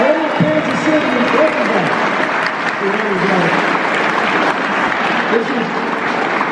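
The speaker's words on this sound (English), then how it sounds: "you give the Chiefs a round of applause" Crowd applause for the Kansas City Chiefs at a Missouri Legislative Black Caucus event, steady and dense throughout, with a speaking voice running over it.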